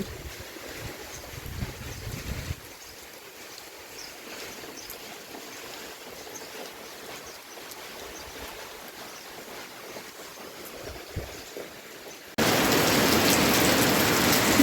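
Steady rain patters on a surface with a soft hiss, then abruptly swells into a much louder, dense downpour near the end.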